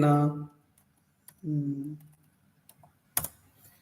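Sparse keystrokes click on a computer keyboard, a few separate taps spread out between stretches of nearby talking.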